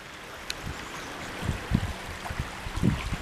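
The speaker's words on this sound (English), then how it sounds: "So we've got this awesome bubbling creek" Bubbling creek water outdoors, a steady close wash of flowing water with soft gurgles and splashes rising now and then, without talk.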